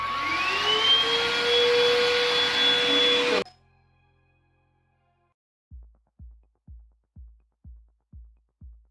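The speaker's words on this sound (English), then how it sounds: "this vacuum cleaner is that it has good suction power" A Vactidy Blitz V8 cordless vacuum cleaner whines loudly with a rising motor pitch for a few seconds, then shuts off; a series of soft, regular thumps follows.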